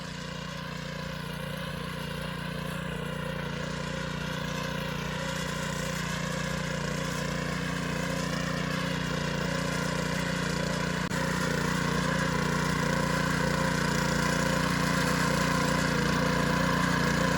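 A mini power tiller engine ploughing a wheat field sown with seed, a steady droning hum that grows gradually louder across the clip, continuous and close, no voices.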